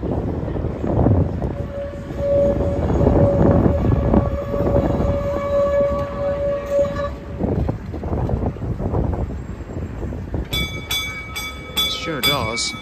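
Auckland's Dockline tram on the Wynyard Loop rumbles along, then sounds a rapid series of short, bright electronic horn beeps close by near the end.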